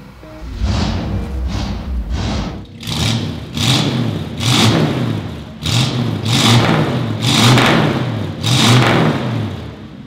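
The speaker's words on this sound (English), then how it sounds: "How about I start it for you so you can hear what it sounds like?" A 1962 Chevrolet Impala Super Sport engine fires up and runs, then revs in a steady series of strong, rhythmic bursts over a deep idle rumble, heard up close with no talking.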